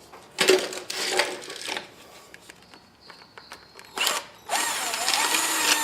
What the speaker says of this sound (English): So I'm just going to drill a new hole right there, a 3/8 hole.